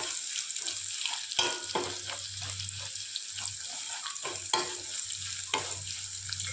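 Roasted spice powder for temple-style tamarind rice is stirred and fried in a pan: a steady close sizzle with repeated scraping stir strokes, no talking.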